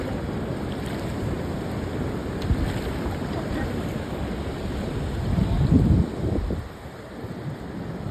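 Rough sea waves churn and crash at Langoyon Beach with heavy wind buffeting the microphone, a steady roar that swells briefly louder toward the end.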